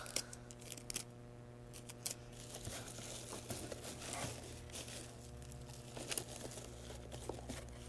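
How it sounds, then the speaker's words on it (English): Scissors snip and crinkle through bubble wrap being secured for a holiday craft kit, a few quiet cuts and crackles over a steady low hum. "cut with my scissors"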